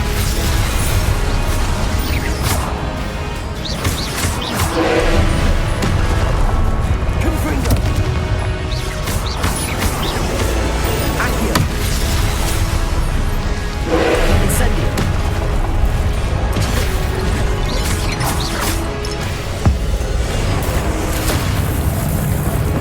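Confringo blast spells in Hogwarts Legacy combat set off repeated booming explosions and crashes under dense, loud battle noise and music, with the bursts landing every few seconds over a full stretch.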